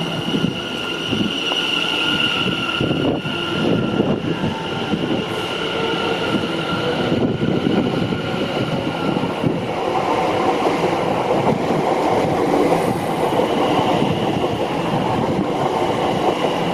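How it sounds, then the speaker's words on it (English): A railtour train hauled by a Class B1 steam locomotive pulls out, rumbling steadily and loudly, a constant rail drone with faint metallic squeals and clatter, building slightly as it gets moving. "The train could pull out."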